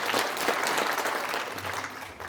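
A crowd claps throughout a ceremony in a large conference hall, steady broad applause from many people, sustained and fairly loud across the whole moment.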